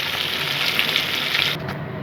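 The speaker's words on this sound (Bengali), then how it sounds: "আমি এইভাবে মাছগুলো ভেজে নিয়েছি" Pieces of hilsa fish fry in hot oil in a home kitchen while cooking doi ilish, a steady close sizzle with no talk that drops out abruptly near the end.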